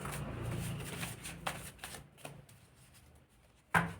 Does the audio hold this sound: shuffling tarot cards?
yes